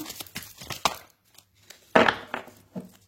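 A tarot deck being cut and shuffled by hand, a close run of crisp papery riffles and slaps, then a pause and a louder crinkling burst of cards followed by a couple of softer snaps.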